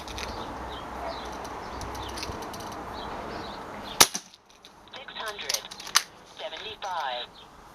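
A Kral Puncher N-07 air rifle fires two sharp, loud cracks about two seconds apart, with a softer clicking between them. Before the shots there is steady outdoor background noise.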